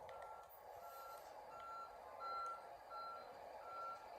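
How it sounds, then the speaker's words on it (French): Truck reversing beeps in The Amazing Spider-Man 2 video game: evenly spaced electronic beeps repeat over a steady background hum, with no talking. "Je dois suivre le camion."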